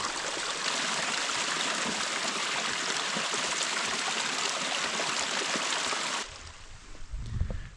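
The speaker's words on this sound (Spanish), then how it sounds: "donde emerge el agua desde las profundidades de la cordillera" A mountain spring in the Andes flows clear from its source, a loud, close, steady gush and rush of water that cuts off abruptly near the end, leaving a faint low rumble.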